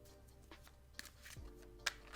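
A tarot card deck is shuffled by hand in a short, quiet burst of riffling and sliding card sounds, with a couple of sharper snaps.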